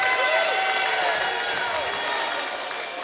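Basketball crowd at a college men's game applauding a made three-pointer, a steady broad wash of clapping and murmur holding for the whole moment, with whistle-like tones and arena noise mixed in.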